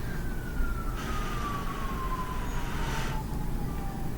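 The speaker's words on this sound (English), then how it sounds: "There's a lot of sirens going on outside" Police sirens wail outside, a steady high-pitched tone gliding slowly downward over continuous traffic rumble, fairly loud and heard without any talking.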